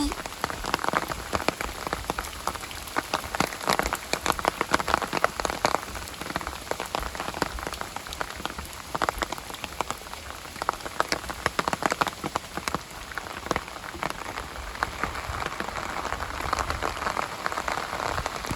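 Steady rain patters on a surface throughout, a dense continuous crackle of drops with no break.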